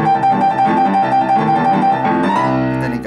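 A piano plays a rapid trill in a boogie-woogie piece, with a bright, fast-alternating pair of notes ringing over lower chords, loud and close throughout.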